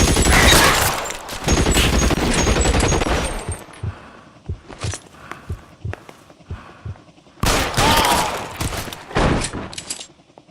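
Shootout gunfire in L.A. Noire: a dense, loud barrage of shots for several seconds, then scattered single bangs with pauses, followed by another heavy burst of rapid fire.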